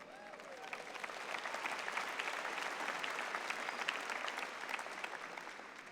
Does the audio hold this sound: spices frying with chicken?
no